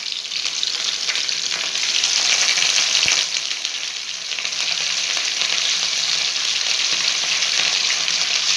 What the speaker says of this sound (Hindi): अब इसे बाहर निकाल कर बाकी हाफ फ्राई करेंगे।